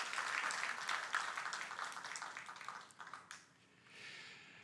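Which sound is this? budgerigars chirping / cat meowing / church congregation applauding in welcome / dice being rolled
church congregation applauding in welcome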